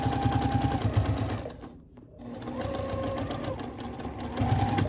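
A sewing machine stitches a quilted Easter bunny shirt in a fast, steady mechanical whir. The machine stops briefly midway, then runs again, close and moderately quiet.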